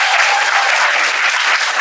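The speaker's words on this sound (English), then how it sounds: "We got to clap that up" A studio audience bursts into steady applause for a podcast guest, a dense, loud wash of clapping held throughout the short stretch.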